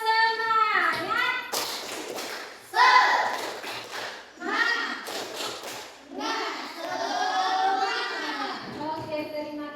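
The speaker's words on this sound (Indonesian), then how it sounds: "Bersemangat, tepuk semangat dulu sekali. Tepuk semangat." A classroom of students performs a rhythmic clapping chant, children's voices singing and calling in bursts with sharp hand claps and taps mixed in, a teacher's voice leading between phrases.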